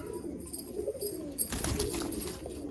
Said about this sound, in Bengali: এত ছটপটে পায়রা